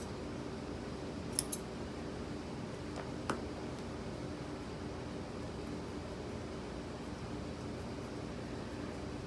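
Scissors snip off craft material while a giraffe figure is being made: two quick close cuts, then a single later snip, against a quiet steady room hiss.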